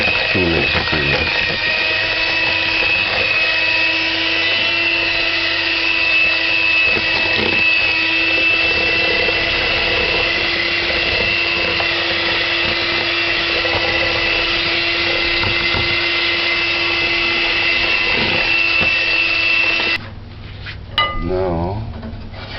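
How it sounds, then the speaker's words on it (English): Electric hand mixer beating Caribbean pound cake batter in a bowl, a steady motor whir with a constant tone running unbroken for about twenty seconds, then cutting off near the end as utensils clink. "Mix this for a good 3 minutes, 2 minutes or 3 minutes."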